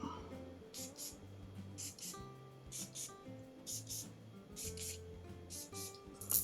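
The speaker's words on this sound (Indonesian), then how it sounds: "Oke, sekarang semprot di baju." Morris Xchange Aqua Myth extrait de parfum is sprayed onto clothes in repeated short hissing bursts, roughly a dozen quick pumps in pairs, close and crisp over low background sound and faint handling.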